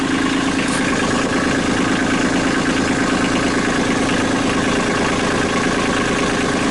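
Kubota B2650 compact tractor diesel engine running at a steady idle, a loud, close, continuous low rumble with even throbbing and no talk.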